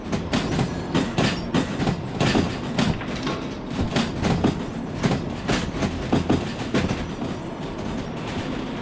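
A moving train in the railway game Derail Valley rolls along with steady clickety-clack wheel beats and rumbling carriage noise, loud and continuous, with no talk over it.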